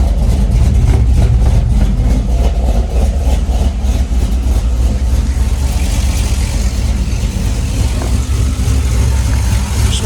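A Chevrolet Silverado V8 with a freshly installed TSP cam kit and a quiet exhaust, idling loud and close with a lumpy, choppy low rumble and a slight rise in revs partway through.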